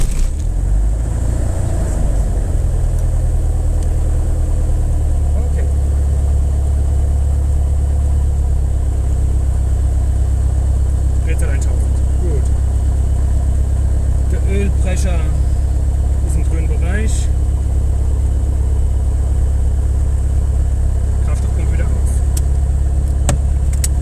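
A Socata TB10 Tobago light aircraft's engine starts and settles into a loud, steady idle that drones on close by for the whole stretch, with a voice speaking intermittently over it.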